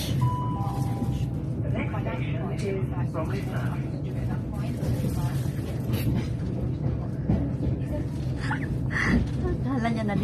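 A passenger train heading back to Chatham, England rumbles steadily along the rails with a low droning roar, faint clicks and squeaks on top, while people chat onboard throughout.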